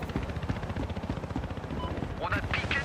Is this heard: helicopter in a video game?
yes